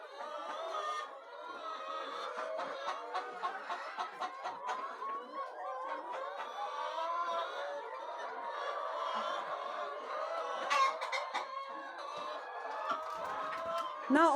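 Hens cluck on a poultry farm, a faint, busy chorus of overlapping clucks and squawks from many birds, steady throughout with occasional sharper calls, and no talk.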